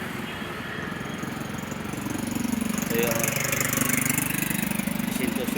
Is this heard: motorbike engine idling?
yes